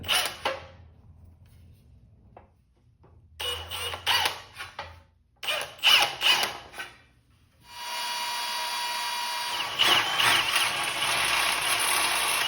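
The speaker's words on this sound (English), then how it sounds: "transfer these holes simply by pecking it with an 1/8 inch bit" A drill pecks holes with a 1/8 inch bit for a metal end table, giving short, spaced whirring bursts in a quiet workshop, then a steady loud machine whine for the last few seconds.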